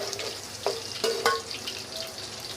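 Onion (kanda) frying in a pan for a mutton kofta curry, a soft steady sizzle with a few light clinks and scrapes of stirring, no voice.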